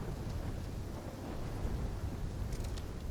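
Thunderstorm in the video game Call of Duty: Black Ops 3, with steady rain and low rumbling thunder under gusting wind, a constant moderately faint wash of storm noise throughout.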